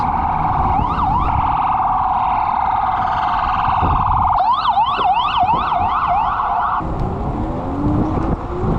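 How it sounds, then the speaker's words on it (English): Emergency vehicle sirens heard from a moving motorcycle, loud and close, wailing and switching to a rapid yelp over road and wind noise. "Fucking sirens."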